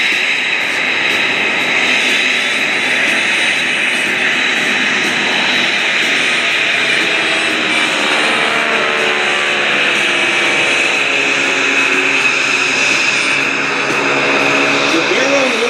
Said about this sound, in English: The barrel roll with Mike Eberhardt tucked into what is typically called the slot position, flying a formation called in trail.